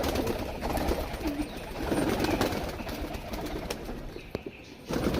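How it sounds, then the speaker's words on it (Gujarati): Pigeons released one by one from a rooftop in Jamnagar under cloudy skies coo softly amid a busy outdoor background, with occasional flutter and faint ambient noise. "ધીરે ધીરે કબૂતર કાઢે છે"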